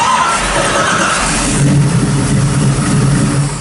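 A 2022 Chevrolet Corvette's engine runs loudly up close after sitting unused in winter, a smooth, steady rumble that swells slightly midway and then eases off, with no talking over it.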